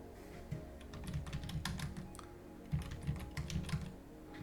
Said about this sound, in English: No, I'm just bad at typing.